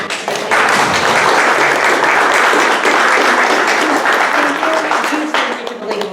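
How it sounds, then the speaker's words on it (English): Sustained audience applause at a congressional candidate forum, a dense, steady wash of clapping from a seated crowd lasting the whole stretch, loud and continuous with scattered sharper claps and a slight fade near the end. "Let's give them a round of applause for being here."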